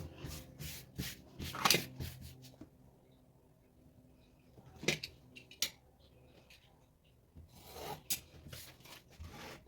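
Fabric is cut for covering a box, giving a scattered series of rasping snips and rubbing strokes, with busier bursts near the start, middle and end, close and fairly quiet with no talking.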